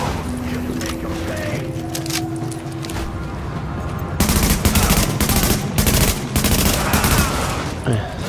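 Gunfire in Tom Clancy's The Division: dense, rapid automatic bursts and single shots, quieter and scattered at first, then heavier and louder close-range firing for the last four seconds over continuous background noise.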